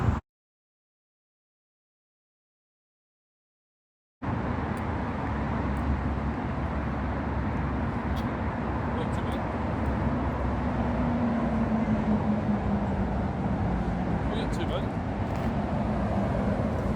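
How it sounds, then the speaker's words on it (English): Road traffic on a London street by Hertford House, a steady close roar of passing vehicles with a rising engine drone, starting abruptly after several seconds of silence and continuing without talk. "I can't hear you, the traffic."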